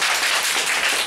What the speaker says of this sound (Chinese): 是不是给我们一点掌声一下？